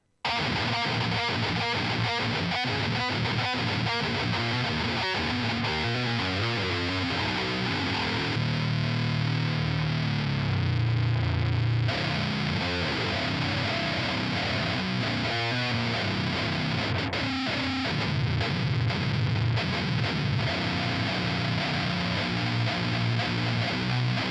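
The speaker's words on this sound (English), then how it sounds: "between those two riffs, you can obviously hear it dropped a few octaves" A heavy, distorted metal guitar riff plays steadily and loud, then drops to a deep, growling version pitch-shifted an octave lower midway through.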